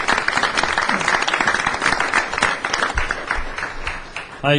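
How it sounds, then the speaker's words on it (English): An audience at a special city council meeting claps for a team's presentations, a loud continuous round of applause that fades slightly before a brief burst at the close. "why don't we just give them everybody a round of applause"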